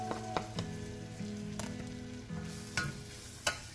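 Onions cooking in butter in a saucepan give a soft, steady sizzle with a low hum beneath, punctuated by a few sharp utensil clicks and taps against the pan.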